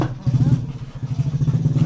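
Motorcycle engine idling and pulsing close by, a throbbing low chug with uneven revs throughout, fairly loud.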